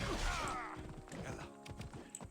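Horse hooves clip-clop in the Assassin's Creed Odyssey video game, a quick irregular run of hoof strikes mixed with thuds and combat impacts, with a voice talking faintly underneath.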